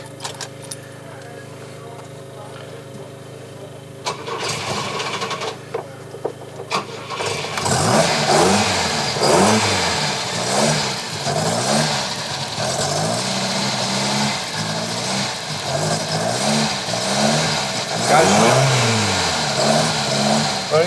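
Classic Volvo Amazon rally car cranks and fires up after a quiet stretch with a faint voice, then revs repeatedly in loud rising and falling blips over a rough idle, close by.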